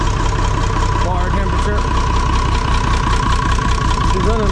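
A restored Massey 1200 tractor engine idling steadily on its first start-up, a continuous close chugging rumble with a slight exhaust leak, with people talking over it.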